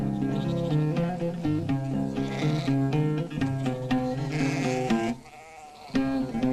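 Black goats herded by nomads on eroded hillsides bleat in a continuous layered chorus of wavering cries, steady and fairly loud over a dense tonal background throughout.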